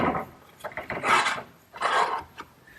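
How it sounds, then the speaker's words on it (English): A metal conduit pipe slides through a drilled hole in wood and an eye bolt on a garden swing, making two close scraping rasps, each about half a second long, with softer rubbing and small knocks between them. "Now the conduit just gets slipped through the hole I drilled and through the eye bolt."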